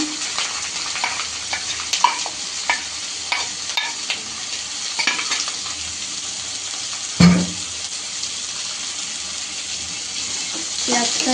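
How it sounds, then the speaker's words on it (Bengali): Chopped onions sizzle in hot oil in a pan for a homemade chicken curry, with continuous frying crackle, repeated scraping stirs and one sharp clatter near the middle. "আপাতত আমরা পেঁয়াজটা হালকা ভেজে নেব"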